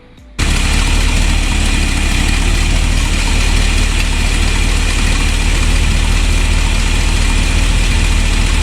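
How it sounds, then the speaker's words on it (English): A 1964 Ford Thunderbird engine catches after a brief quiet start, then runs loud and steady at a rough idle right up close, alone for the rest of the stretch. "turn the engine on and check and see if there's any reading in between these lines"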